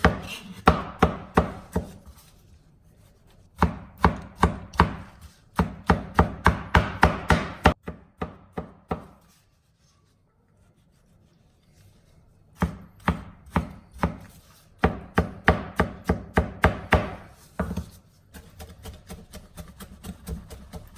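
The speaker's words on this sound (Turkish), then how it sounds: "Satırla doğrayacağım bunu." Rapid, heavy cleaver chops through a tomato on a cutting board in bursts of steady knocks, with short pauses between runs; close and loud, no talking.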